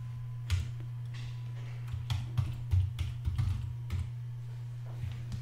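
Keys tapped on a computer keyboard while a sudo dnf update command is entered on Fedora 29, a quick irregular run of light clicks over a steady low electrical hum, close and without voices.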